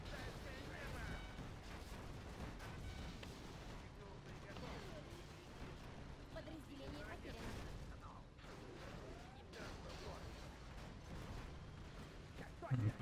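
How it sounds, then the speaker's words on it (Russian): Dense, continuous battle noise from Command & Conquer: Generals, playing as China, with rumbling explosions and scattered gunfire, layered and chaotic, at a moderate, steady level throughout. "вот это просто перестрелка, эти эффекты, эти взрывы"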